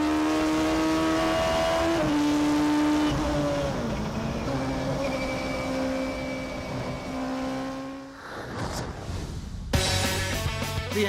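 A Radical SR3 sports racing car with a 1.5 litre bike engine of about 250 horsepower howls around Castle Combe circuit, revving high, dipping through gear changes and climbing again, close and loud before another burst near the end.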